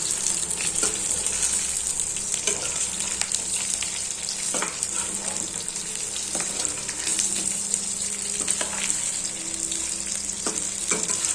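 Chicken fries in a pan, a continuous dense sizzle with high hiss and scattered crackles and light stirring taps throughout.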